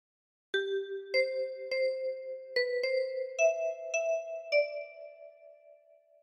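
A 10-key kalimba picks out a short phrase of Hark the Herald Angels Sing, about nine clear, chiming plucked notes at an even pace, ringing softly and close with no voice.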